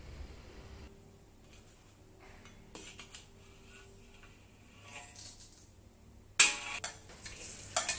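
Peppercorns in oil in a pan over low heat, a faint sizzle with light metallic scraping and stirring clinks, louder near the end.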